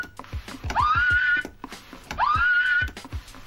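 A turntable cutting scratch: a record is pushed forward while the crossfader stays open and closed on the pull-back, so no back rub is heard. Two loud, rising, whinny-like sweeps repeat about a second and a half apart, with sharp clicks around them.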